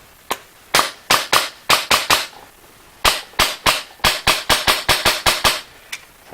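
Airsoft M4 fitted with a Polarstar F1 firing on semi-auto, a string of sharp, close snapping shots in uneven bursts with short pauses between groups, no talking.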